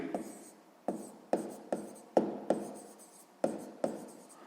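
Pen strokes scratch across paper while solving a sixth-grade math exercise by hand, about eight short close strokes in an irregular rhythm, each a sharp scratch that fades quickly, with no talk.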